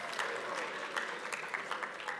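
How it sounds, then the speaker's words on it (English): Audience applause at a morning business keynote in Atlanta, a steady, fairly quiet wash of clapping from a crowd that holds evenly through the short moment without a clear peak. "Let's have some applause."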